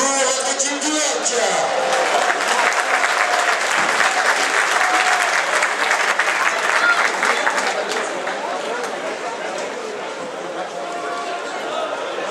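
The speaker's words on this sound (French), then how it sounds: "Applaudissements s'il vous plaît pour l'équipe du Hoc." A stadium crowd at a national championship football match between Vannes OC and Bayonne applauds the team, broad sustained clapping and cheering that eases slightly toward the end, a voice briefly audible at the start.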